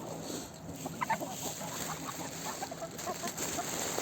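Chickens kept together with geese in a yard, clucking in short bursts over a busy background murmur, several birds fairly close with brief louder calls.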